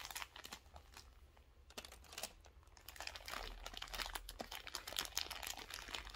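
Crinkly plastic packaging around skeins of Malabrigo lace yarn is cut open with scissors, giving a steady run of close, sharp crinkles and snips that grow busier toward the end.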